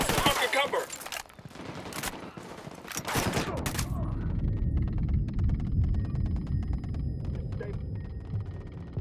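Gunfire fusillade in the tactical shooter Ghost Recon Wildlands: dense bursts of automatic rifle fire crackle loudly for four seconds over shouted voices, then give way to a steady low rumble with faint distant shots.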